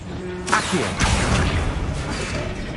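Magical Accio summoning spell in Hogwarts Legacy, a rushing whoosh with a swishing onset followed by a broad swell and thud-like impact, loud and dense, layered over game sound effects.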